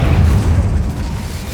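The Incendio fire spell cast in Hogwarts Legacy bursts out as a loud, deep whooshing boom that rolls and fades over about a second and a half.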